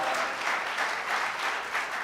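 Audience applause at a Hindi comedy poetry show, a dense, even wash of clapping from a sizeable crowd, steady and moderately distant, with no talk over it.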